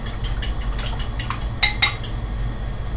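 A metal spoon clinks rapidly against a small dish as sesame oil and regular oil are stirred together, a quick series of close, bright taps over a low steady hum.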